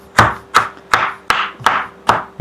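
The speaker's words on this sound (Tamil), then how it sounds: "இப்போ வந்து என்ன டாடி கட் பண்ணிட்டு இருக்கீங்க?" A knife chopping carrot and other vegetables on a cutting board in a home kitchen, six evenly spaced, crisp chops close up, each a sharp knock with a short crunchy tail, no talking.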